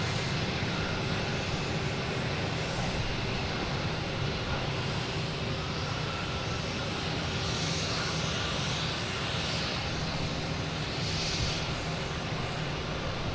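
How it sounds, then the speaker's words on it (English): A JetBlue Airbus A321 arriving from LAX at Boston Logan gives a steady, broadband jet roar that holds loud and even throughout, with a faint high whine riding on top and no voices. "next coming in is JetBlue, coming in from LAX, an A321"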